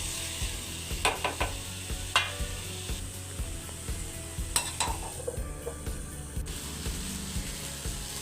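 Onion and tomato frying in a pan for a bhindi palya, a quiet steady sizzle broken by repeated sharp clinks and scrapes of a spoon against the pan, close and unhurried.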